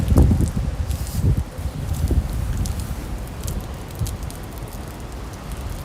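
Cold wind gusting outdoors at the Blue Water Bridge in Michigan, a steady broadband rush with stronger buffeting gusts in the first seconds, continuous and fairly close.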